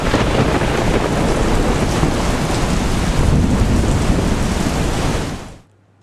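Heavy rain pours down in Palanpur as a loud, dense, unbroken roar. The sound is steady throughout and cuts off abruptly near the end.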